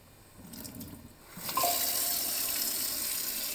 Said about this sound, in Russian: мы просто открываем воду и немножко мочим наш датчик